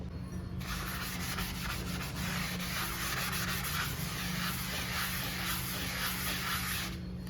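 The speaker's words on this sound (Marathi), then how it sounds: "तीन चार वेळा लिक्विड टाकून स्वच्छ घासून घ्यायचं आहे" A cast iron dosa pan being scrubbed with cleaning liquid gives a continuous, close, gritty rubbing and scouring sound in fast back-and-forth strokes for about seven seconds, with no talking.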